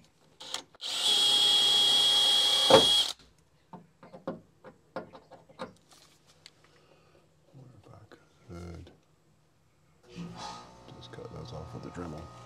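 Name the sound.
power drill drilling out bolts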